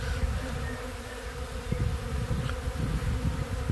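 A small swarm of bees buzzes around and lands on another colony's beehive, with some fighting, a dense continuous drone held close throughout.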